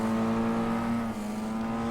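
2-litre saloon stock cars racing in a grand final at Barford, a steady loud engine drone with strong harmonic hum throughout, dipping briefly midway, with no talk over it.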